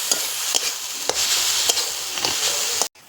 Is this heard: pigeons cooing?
no